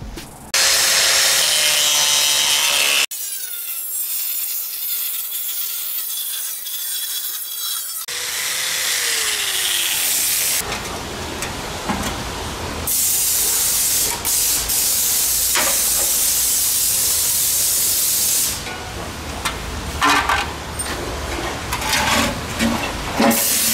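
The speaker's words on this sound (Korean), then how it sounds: "소음기를 자르면서 조마조마했어요" Harsh grinding and rasping of a car muffler being cut with a worn-down cutting disc, in several loud bursts separated by brief pauses, with shifting pitch as the blade bites.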